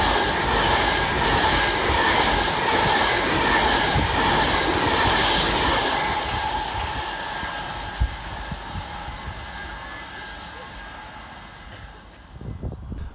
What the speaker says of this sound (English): Next up for Avanti West Coast is 390137, working 9 Mike 50 from Edinburgh Waverley to London Euston.